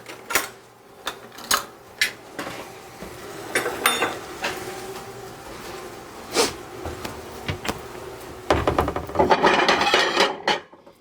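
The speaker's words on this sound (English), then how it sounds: "Get a spoon and a plate and a fork." A spoon, plate and fork are taken out in a kitchen: scattered clinks, knocks and scrapes of cutlery and dishware, sharp taps spread across the stretch with a busier rattling run near the end.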